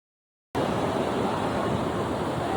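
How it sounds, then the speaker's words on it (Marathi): Sea waves break on a Konkan beach. After half a second of silence, a loud, steady wash of surf starts and continues without a break, with no voices. "थांब लाट येते."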